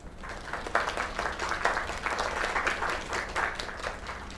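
Audience applause from a crowd, steady dense clapping sustained throughout with no voices on top, moderately loud and evenly spread as if filling a room.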